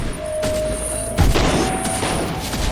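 Dum-dum shot gunfire in the action game The Incredible Adventures of Van Helsing, a few booming, thudding shots and impacts over a busy background of game noise, with one heavy blast in the middle.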